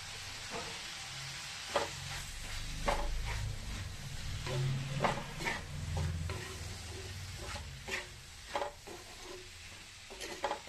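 Brinjal pieces frying in a pan for mezhukkupuratti, a steady close sizzle broken by repeated scraping stirs and clinks of a spatula against the pan.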